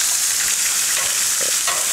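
Smashburger patties sizzle on a hot Blackstone griddle, a steady, close hiss of frying meat that runs without a break and with no voices.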